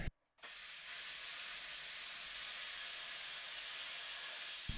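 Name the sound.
Yes Welder Cut 55 DS plasma cutter cutting steel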